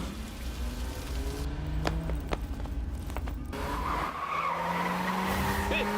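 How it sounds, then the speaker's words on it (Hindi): A car in a night getaway pulls off, its engine rising and tires skidding briefly beneath steady rain-like background noise, with a loud whine climbing toward the end. "तू जल्दी गाड़ी भगा"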